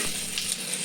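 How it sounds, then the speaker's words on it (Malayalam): Tilapia with masala frying on a banana leaf in a pan, a brief steady close sizzle with soft crackle and no voices. "ആദ്യമായിട്ട് തിലോപ്പി പൊരിക്കാൻ വേണ്ടി പോകാം"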